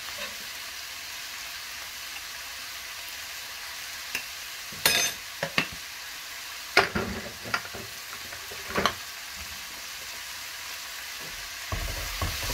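Onion fries in a pan with ginger and spices, a soft continuous sizzle broken by several louder stirring scrapes and clatters up close.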